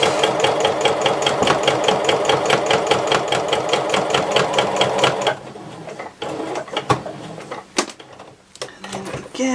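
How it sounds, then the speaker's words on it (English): A sewing machine runs in a fast, steady stitching burst while seaming a quilted fabric tablet cover sleeve at an eighth-inch seam, then stops, followed by clicks and handling noises nearby. "We want to stitch this at 1/8 of an inch"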